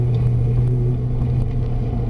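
A Ferrari F430 engine holds a loud, steady, droning hum on the Trappes track, close and dominant throughout with no rise in pitch audible in this short stretch, and no voices.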